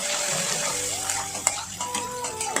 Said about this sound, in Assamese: পিঁয়াজখিনি ৰঙচুৱা হৈ ভাজি ল'ম